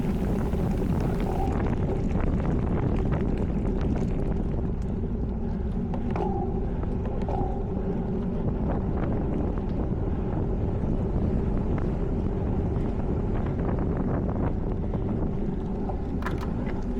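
A headwind blows hard across the microphone during an outdoor cyclo-cross race, producing a steady, loud, rumbling wind roar with small gust fluctuations that lasts the whole stretch with no talking.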